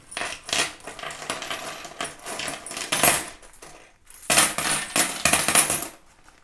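Metal coins clink and jingle as they are handled, in uneven bursts with a brief pause, close and fairly loud.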